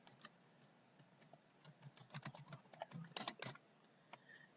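Typing Python code on a computer keyboard: a quiet, close patter of irregular key clicks building into a quick burst, with no talking.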